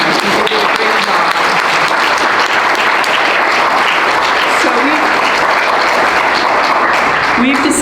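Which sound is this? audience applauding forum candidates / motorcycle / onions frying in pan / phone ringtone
audience applauding forum candidates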